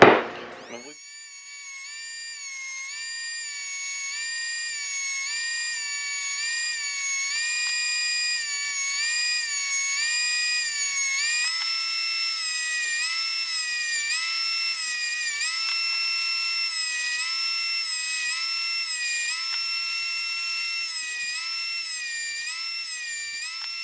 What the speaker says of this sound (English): we used that surface planer and we got all these sides really nice and straight now